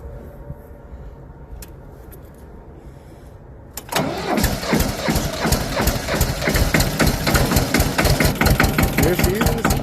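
A tractor engine, its glow plugs already heated, cranks over and catches, then settles into a loud, close, rough idle with a dense rattling knock that continues steadily.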